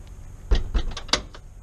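Swinging tire carrier on the back of a Peanut expedition trailer (Gen 2), fitted with a Rotopack mount, being opened and closed, giving a few close, brief metallic clunks and latching clicks in quick succession with no talking.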